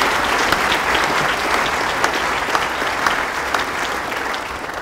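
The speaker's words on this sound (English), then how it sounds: "So please join me in applauding Don and Clint and Bob" Sustained audience applause fills a lecture hall after a climate change lecture, steady dense clapping from a large crowd for several seconds with no talking.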